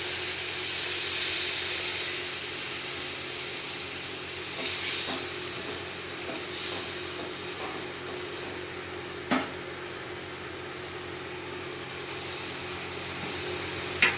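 Water poured into frying masala for Bengali fish kalia gives a loud, steady steaming hiss that holds for many seconds, with a couple of sharp clinks near the end.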